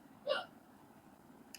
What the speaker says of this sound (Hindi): हिचकी तो आपको नहीं करना है ना सर?